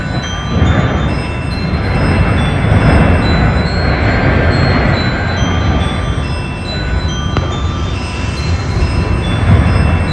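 A freight train derailment near Pecos, Texas: continuous heavy rumbling and grinding of railcars piling up, broadband and steady, with faint metallic squeals; no crash peaks stand out, just a sustained loud roar.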